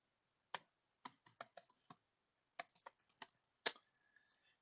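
Keystrokes on a computer keyboard while entering a gdb command under Linux: a dozen or so crisp, close clicks in short irregular bursts with brief pauses, quiet and alone.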